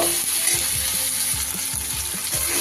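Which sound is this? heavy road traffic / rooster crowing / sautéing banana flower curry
sautéing banana flower curry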